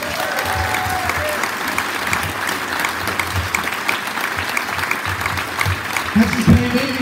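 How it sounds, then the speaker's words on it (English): Audience applause and cheering in a school music gathering, loud sustained clapping from a large crowd with a few shouts rising near the end. "Give them all a big cheer, please."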